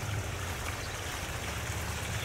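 Backyard waterfall built of limestone quarry stone, running as a steady, full rush of splashing water close by, continuous with no voices.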